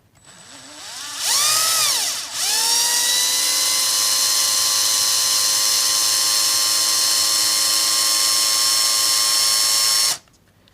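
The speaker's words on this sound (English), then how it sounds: "with the use of our speed nipple bit, can I just get it in there?" Unior 1756 speed nipple bit in a power drill spinning spoke nipples onto a bicycle wheel, a loud close high-pitched whine that revs up, dips briefly, then holds steady for about eight seconds before cutting off.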